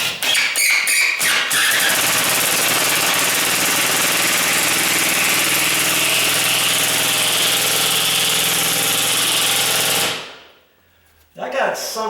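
An impact drill drives a screw into a sagging garage door, a loud, sustained rapid hammering rattle lasting about ten seconds before stopping abruptly, with brief bursts of tool noise just before and after.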